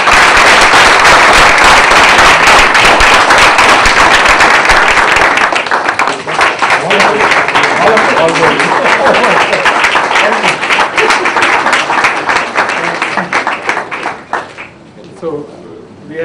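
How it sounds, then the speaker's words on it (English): Loud, thundering applause from an audience at a corporate café talk with the managing director of RBEI, Bosch's engineering arm. It rings close and dense, then thins into scattered claps and fades out near the end. "may I request you once more for a thundering round of applause"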